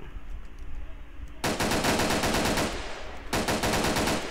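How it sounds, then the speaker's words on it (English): Gunfire in the video game Arma 3 with a modded weapon: two dense bursts of rapid, loud automatic shots with sharp ricochet-like cracks, the first starting after a quiet moment and the second following a brief pause. "Wait, I think those are ricochets bullet."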